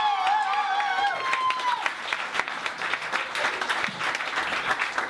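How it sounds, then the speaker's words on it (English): An audience at a comedy show at Lincoln's Bar and Grill on Market Street breaks into sustained applause and cheering as a comic is introduced, dense clapping from a nearby crowd with an announcer's voice briefly over the start. "Please clap your hands for Connor McGrath, everybody."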